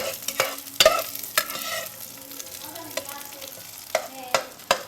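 Garlic and onion frying in a pan with a steady low sizzle, broken by sharp clacks and scrapes of a utensil stirring at irregular intervals.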